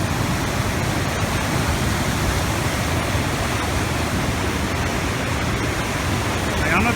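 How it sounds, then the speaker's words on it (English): Big waves of rushing water crash and churn steadily at Devil's Hole, a loud, dense wash of surf that fills the whole scene with no break. "I don't know if you can tell the height of the waves or not. They're like mountains."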